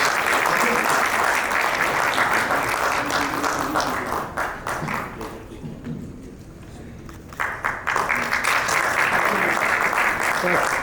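An audience applauds at a sustainability and net-zero conference as a guest is called to the stage, loud, dense clapping that dips briefly midway and then swells again, with voices audible underneath.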